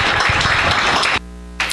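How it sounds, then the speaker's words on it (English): Crowd applause at a high school football senior night, Greensburg Salem at Highlands, a dense wash of clapping for about a second before cutting off abruptly into quiet. "Let's have a nice round of applause for Caleb White and his family."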